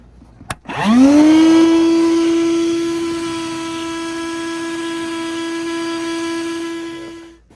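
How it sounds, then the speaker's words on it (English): A loud vacuum cleaner motor whine spins up after a brief knock and holds a steady high hum, running continuously nearby while vacuuming insulation out of a gas line during a fireplace installation. "I have to vacuum out that line in case I got any insulation in there"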